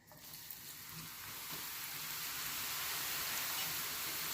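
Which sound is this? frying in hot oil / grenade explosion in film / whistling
frying in hot oil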